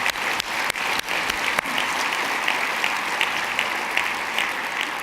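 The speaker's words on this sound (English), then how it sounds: "How about a round of applause for Dr. Jim Allison?" Audience applauds an honoree, Dr. Jim Allison, at a Texas Medical Center event: steady, dense clapping from a large crowd, fairly loud and continuous for the whole stretch with a few sharper individual claps near the start.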